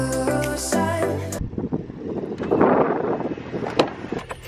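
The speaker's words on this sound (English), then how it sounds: "It's really windy, it's really, really cold." Brief music gives way to strong, cold wind in Melbourne buffeting the microphone in rough, gusting bursts.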